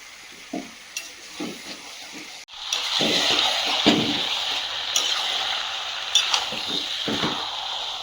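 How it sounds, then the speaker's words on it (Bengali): Chicken pieces stirred in a pan with fried onion and tomato: a few soft scrapes, then a loud, sustained sizzle bursts in and continues under repeated stirring knocks of the spatula. "দিয়ে মাংস কষতে থাকবো"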